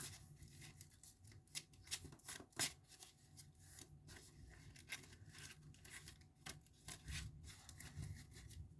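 Quiet, close-up riffling and rubbing of Pokémon trading cards being shuffled back into a deck, irregular bursts of papery flicks and slides with no voices.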